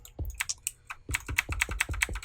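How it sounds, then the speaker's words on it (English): A computer keyboard clicks during a Minecraft building session: a quick, uneven run of keystrokes followed by a faster, steady burst of sharp clicks, close and alone. "I wonder if anyone who watches this gets ASMR from the clicking of the keys."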